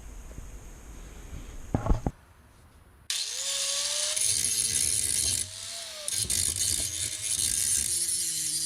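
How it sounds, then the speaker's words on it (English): Angle grinder grinding down welds on a steel forge build, a harsh broadband whine that runs loud and steady, stops briefly, then resumes with slight pitch shifts, preceded by a few clanks. "The wonderful thing about grinding is it shows you where you messed up with welding."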